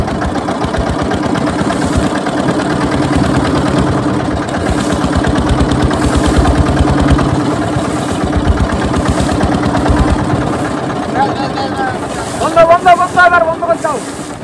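Motorboat engine running steadily on a river while fishing, a loud continuous drone buffeted by wind noise, with a rougher, pulsing surge near the end.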